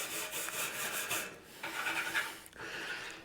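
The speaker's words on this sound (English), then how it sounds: "She's scrubbing that lid." A lid from an old cement mixer is scrubbed in quick rasping back-and-forth strokes, close and fairly faint, with short pauses between bursts.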